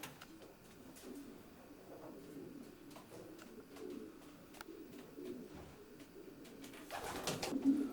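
Racing pigeons cooing steadily inside a loft among related cocks, a soft, continuous murmur of coos close by with a brief rustle near the end.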